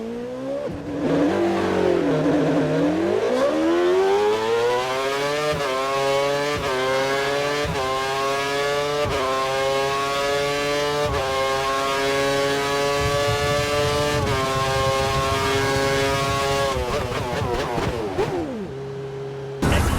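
A Formula 1 car in the F1 2013 racing game, its engine locked to a lean setting, revs up through repeated upshifts, the whine rising and dropping with each gear change over about twenty seconds, then braking to a stop.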